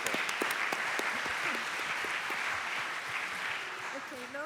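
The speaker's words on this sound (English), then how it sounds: "A round of applause." Audience applause after a talk at an AI session of a scientific conference, steady dense clapping filling the room, with a voice rising faintly near the end.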